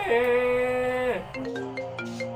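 A mobile phone ringtone plays a sustained, tonal electronic melody, loud and close, with a shift in pitch partway through and faint voices in the background.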